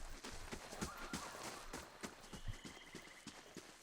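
Horse hooves clip-clop in a quick, irregular rhythm inside the video game Pillars of Eternity, with a faint neigh-like tone partway through, the steps close and continuing throughout over a dense background.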